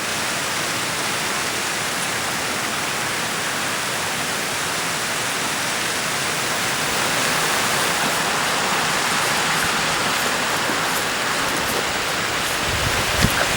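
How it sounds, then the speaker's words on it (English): Steady broadband roar of a waterfall rushing down a gorge in a remote Cowal hillside, heard from a distance as constant unbroken white noise with no voices, holding level throughout with a faint knock near the end. "lovely waterfall over there that I'm not going to go and investigate"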